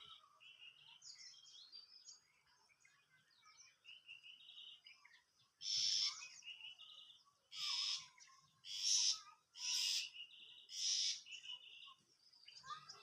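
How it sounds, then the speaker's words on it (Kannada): Birds call around a rural farmyard where goats are kept. Faint chirps come first, then five loud, clear call bursts repeat in quick succession, with no voices. "ಹಕ್ಕಿಗಳು ಸೌಂಡ್ ನೋಡ್ರಿ ಎಷ್ಟು ಚಂದ ಮಾಡಕತ್ತ."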